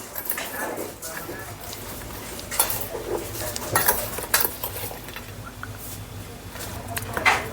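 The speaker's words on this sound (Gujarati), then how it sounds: "સંભાર હલાવી નાખીએ" A spoon stirs and scrapes around a dish of sambhar in repeated strokes, with clinks against the sides and a faint background hum.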